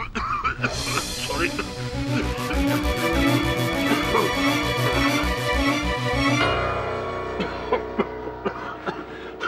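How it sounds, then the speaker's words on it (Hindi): Amid a courtroom drama scene, a man coughs briefly over swelling dramatic background music, and speech follows. "आई एम सॉरी, कमबख्त खांसी।"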